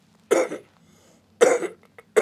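A patient coughs during an abdominal hernia examination, giving two firm, close single coughs about a second apart, with the start of a third at the very end, in an otherwise quiet room.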